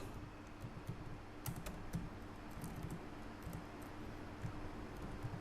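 Fingers type on a computer keyboard in a quiet room, making light, irregular clicks in quick clusters at a low, steady level.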